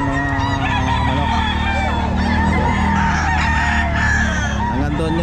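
Roosters crowing and chickens clucking together at a pet market on a rainy morning, a loud, close chorus of overlapping calls and honking cries.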